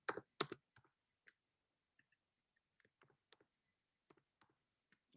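Sparse keystrokes on a computer keyboard while a coin name is typed into a cryptocurrency site search, a few quick clustered clicks then scattered single taps, close and quiet.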